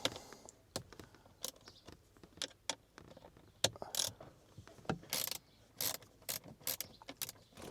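Torx T30 bolts being undone on a Jaguar XK8 produce close, quiet ratcheting clicks and sharp metallic ticks in irregular bursts, with no voices.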